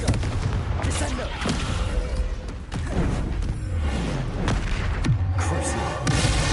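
Spell blasts from the video game Hogwarts Legacy burst in rapid succession, booming and cracking like gunfire amid continuous game effects, with a voice casting spells over them.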